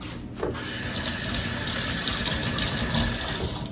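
Tap water runs steadily into a kitchen sink while raw chicken is rinsed under it, a close, continuous splashing rush with no talking.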